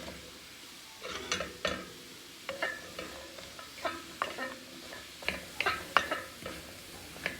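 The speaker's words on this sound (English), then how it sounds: "we have our vegetables cooking and it smells pretty good" Vegetables for chili corn soup cooking in a pan, a quiet sizzle under a run of sharp scraping and clacking stirs, close by, irregular but frequent, with no speech.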